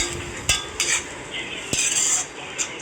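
A utensil stirs spice paste into egg gravy in a metal pan, knocking and scraping sharply against the sides in uneven strokes over a faint background hiss.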